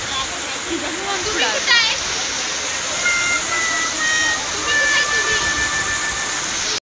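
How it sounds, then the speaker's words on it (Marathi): Heavy, unbroken rain pours down in Murudeshwar, Karnataka, a dense steady hiss of water throughout, with a few faint whistles and distant voices mixed in. "थोडा पण पाऊस थांबत नाही, कमी पण येत नाही."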